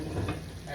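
Food sizzling and frying in a pan during home cooking, a steady close crackle with some low stirring or pan movement, no talk over it.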